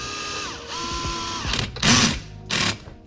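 A power drill runs up and whirs while tightening bolts during an at-home oil change on an Audi Q7, with several close, loud bursts of motor whine and mechanical ratcheting.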